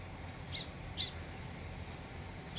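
Two short, sharp sparrow chirps ring out near nests beside a vegetable garden, quiet and separated by a pause over faint background hiss.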